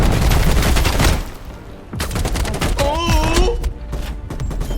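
Rapid bursts of video game gunfire crackle loudly in repeated volleys with short pauses, with a shouting voice rising over the shooting midway.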